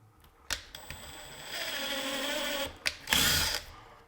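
A power drill drives a test screw into a wall stud while installing IKEA kitchen cabinets: a short burst, a sustained whirring run, then two quick closing bursts, close and clear.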